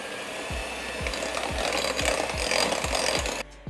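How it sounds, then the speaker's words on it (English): An electric mixer on low speed beats keto chocolate chip cookie batter with a whole egg, giving a close, steady churning scrape with regular low thumps about twice a second, then cutting off abruptly just before the end. "now we're gonna mix this on low speed."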